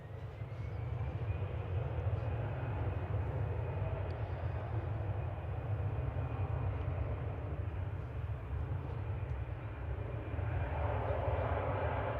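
Airliners arriving at Manchester Airport, a continuous broad jet engine roar with a deep low rumble holding steady throughout, distant and unbroken, with no voices heard.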